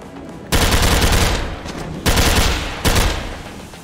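Automatic gunfire in the VR shooter Tactical Assault VR, three loud, sharp bursts of rapid shots, each cutting off abruptly after a second or so, with short pauses between.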